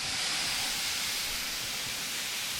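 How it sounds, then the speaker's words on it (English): A pressure canner loaded with salmon vents a steady, unbroken stream of steam, a continuous loud hiss with no sputtering that holds even throughout. "what I'm looking for is straight steam without any air coming out"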